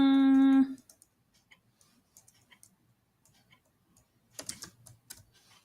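Code is typed on a computer keyboard after a brief steady electronic tone. Soft, sparse key clicks follow, quiet and close, then a denser flurry of keystrokes near the end.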